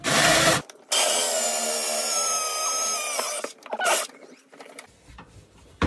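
A power drill bores a hole into a kitchen cabinet, loud and close: a short burst, then a long sustained whine, followed by a few brief revs and clatter as it stops.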